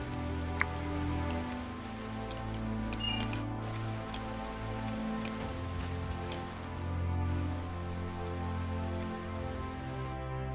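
Steady video game rain patters down continuously on surfaces, a soft even hiss with scattered drops, no voices.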